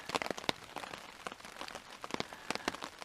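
Soft, irregular patter of raindrops tapping on a surface nearby during a back-country camping trip in Killarney, quiet and crackly with scattered sharper drips.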